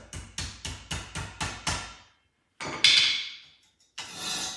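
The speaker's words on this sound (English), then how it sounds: "Got this hammer here, it's a little overkill" A hammer taps six times in a quick, even rhythm while fitting a Jeep top hoist, then after a pause two louder ringing metallic strikes follow, close and alone.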